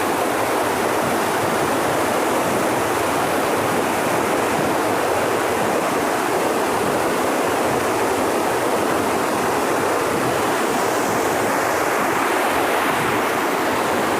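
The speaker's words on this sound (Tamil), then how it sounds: "மலையில் இருக்கிற ஆறுகளில் தண்ணி எப்படி போகுது அதோட வெள்ளப்பெருக்கு இருந்தால் எப்படி இருக்குன்னு நீங்களாம் பாருங்கள்" A mountain river in flood rushes through a forest, a dense, steady roar of churning water that stays loud and unbroken throughout, with no voices.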